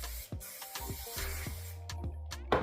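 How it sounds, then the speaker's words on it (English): Weightless, flexible hairspray misted over freshly curled hair in short repeated bursts, a soft close hiss with brief pauses between sprays. "I'm gonna spray it"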